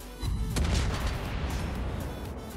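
Ship turret gunfire from a Tier IX Black Fletcher destroyer in World of Warships: a sharp, loud boom opens the sequence, then rumbling echoes and further shots tail off without talk.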